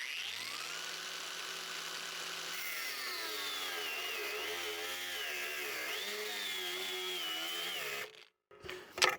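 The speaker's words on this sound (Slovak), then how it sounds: "Je počuť, že sa motor snaží dorovnávať otáčky, tak aby sa nezastavil." A Parkside Performance PWSAP 20-Li G7 cordless angle grinder cuts under load, its loud motor whine dipping and recovering as pressure varies, then cutting off abruptly near the end.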